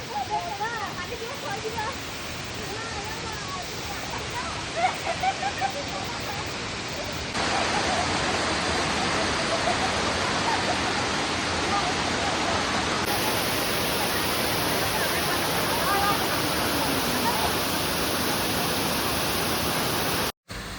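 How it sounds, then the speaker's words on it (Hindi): A waterfall in Meghalaya roars as a steady broadband rush of falling water, with a person talking faintly over it at first before the water noise grows louder and fills the rest. "पानी की आवाज़ आपको शायद सुनाई दे रही होगी थोड़ी थोड़ी"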